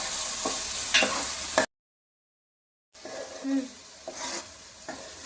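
Fish curry ingredients for Godavari-style fish pulusu sizzle in hot oil while a ladle stirs them, with scraping strokes and crackling frying broken by a brief silent gap.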